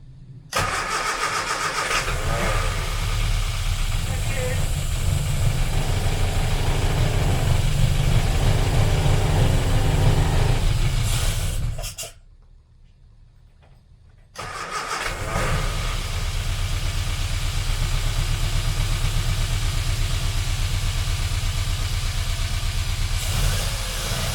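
A 1275cc engine fitted into an Austin Allegro during an engine swap runs loud and close with a steady mid-range drone, cuts out for about two seconds, then restarts and keeps running evenly.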